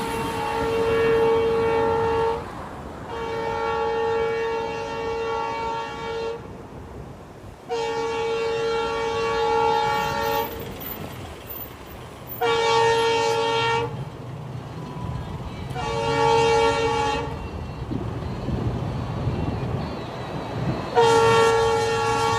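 A train crosses the New Pamban Bridge at Rameswaram on a high-speed trial run, sounding a series of long, loud horn blasts over a steady rolling rumble, with no voices.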